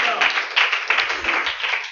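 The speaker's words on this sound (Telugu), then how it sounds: "చప్పట్లు కొడదాం ఒకసారి" An audience at a youth church meeting claps briefly in a quick, fairly dense burst, close and moderately loud, lasting about two seconds.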